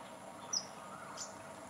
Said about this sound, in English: Can you hear the beautiful morning birds?